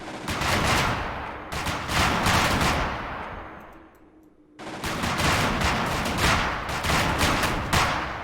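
Sustained machine-gun and rifle fire in the war strategy game Men of War: Assault Squad during a Soviet special forces assault, loud continuous bursts that fade briefly into a decaying echo before resuming at full intensity.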